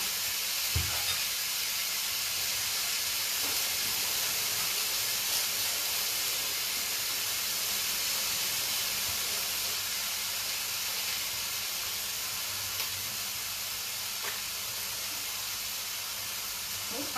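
Chopped onion sizzles steadily in a frying pan while cooking chilli con carne, a constant broadband hiss with faint occasional clicks and pops throughout, no talking.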